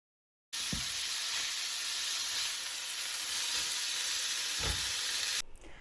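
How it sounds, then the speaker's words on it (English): Carrot noodles sauté in a pan with a steady, bright sizzle and hiss throughout, with a couple of low knocks from stirring. "I just sauteed my carrots and they are just where I want them to be."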